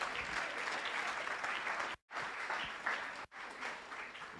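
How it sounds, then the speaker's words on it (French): A church congregation applauds in sustained, rolling clapping from many people, filling the room evenly with two brief cuts in the sound. "On peut acclamer le Seigneur."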